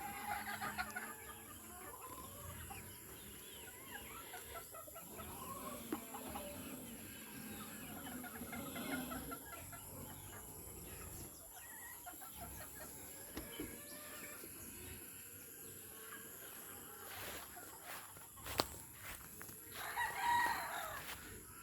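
Chickens in a backyard coop cluck steadily at moderate distance while a rooster crows now and then, with a faint constant hum underneath and no talking.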